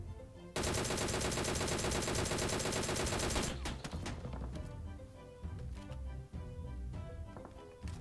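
In the Metro Royale video game, a dense automatic burst rattles out for a few seconds, then scattered, fainter shots and clatter follow.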